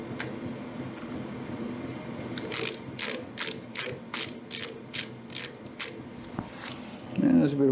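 A screwdriver tightens the screws on the back cover of a 185,000 BTU kerosene heater, giving about ten crisp, rhythmic ratcheting clicks at close range, with someone talking in the background.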